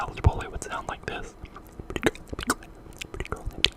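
Close, unintelligible whispering mixed with wet mouth clicks and smacks in an ASMR style, a quiet intimate stream of soft broken syllables with sharp little lip and tongue pops scattered throughout.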